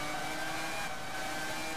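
Renault-powered Formula One car engine in the F1 2001 racing game, a steady, thin mid-pitched drone holding at constant revs throughout a brief stretch.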